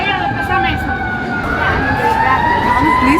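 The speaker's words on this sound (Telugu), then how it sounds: "ఏదో ఫైర్ ఇంజిన్ ఏదో" A fire engine siren wails loudly and close at a windy Canada Day gathering in Mississauga, its rising and falling tones sweeping continuously throughout.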